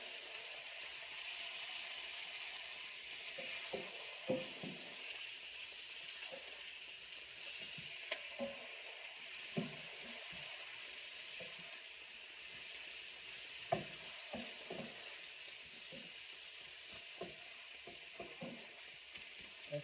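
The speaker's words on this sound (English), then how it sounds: "I'm just letting the eggplant saute." Eggplant sautéing in a pan: a steady, broad sizzle runs throughout, dotted with scattered clicks and scrapes of stirring, with no talking.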